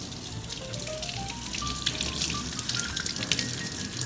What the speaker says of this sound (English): we're gonna have to wash these potatoes now.